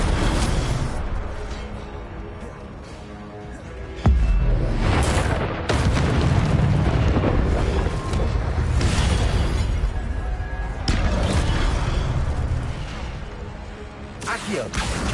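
Incendio fire spells cast in the Hogwarts Legacy video game on PS5, loud bursts and booming blasts recurring amid dense battle noise and music throughout.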